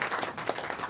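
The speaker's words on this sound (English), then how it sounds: "Please give yourselves a round of applause for everything that you're doing for our people." Audience applause at a regional leaders workshop, a dense steady patter of many hands clapping at close range for just under a second, with no voices standing out.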